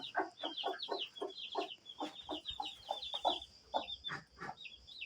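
Several hens cluck steadily and close by in a coop, a busy overlapping chorus of short clucks with no talking.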